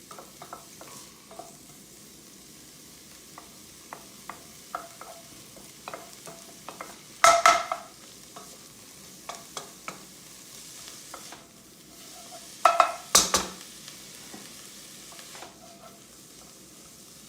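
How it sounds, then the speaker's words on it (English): Onions cooking in a hot pan for French Canadian creton, with a faint steady sizzle under repeated soft scraping and stirring taps, plus two louder clattering bursts of the spoon against the pan. "I just want to be able to quickly caramelize these onions."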